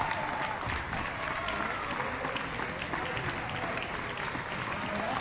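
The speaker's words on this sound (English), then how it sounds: "it'll be Taylor Highland now who's going to get an ovation" A crowd at a Judson men's basketball game against Indiana-South Bend gives a player a standing ovation: dense, continuous applause filling the gym throughout, with no break in the clapping.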